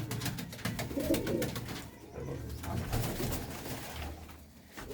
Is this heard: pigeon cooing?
yes